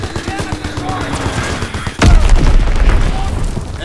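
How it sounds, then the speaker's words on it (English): An enemy bombing strike in Call of Duty WWII hits with a sudden loud boom midway, followed by heavy rumbling blasts, after a stretch of rattling gunfire with a voice speaking over it. "Enemy bomb incoming."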